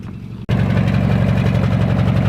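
A Dinky engine idling with a rattle can exhaust, a loud steady low rumble with a continuous metallic rattle, starting abruptly after a brief near-silence and running on alone.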